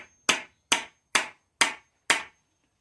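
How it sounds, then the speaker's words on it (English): Five crisp hammer taps drive a wooden snowman's nose flat, close and steady in rhythm, each strike sharp with a short ringing tail and silence between. "I'm just going to tap that with a hammer until it gets flat"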